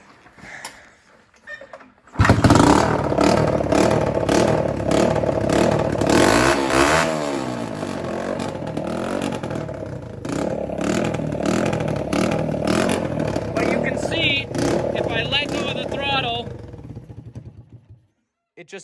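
A carbureted small engine sputters, catches, and runs with a loud, rough rev that rises and falls and surges again before it cuts out near the end.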